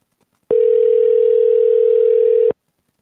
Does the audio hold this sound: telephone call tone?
yes